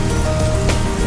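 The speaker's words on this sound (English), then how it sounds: "The first showers of the southwest monsoon." Steady broadband hiss of heavy monsoon rain showers falling on surfaces in the Western Ghats, a continuous dense patter with no voices.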